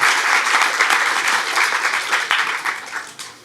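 A theater audience applauds after a film screening, a dense wash of clapping that stays full for about three seconds and then tapers off.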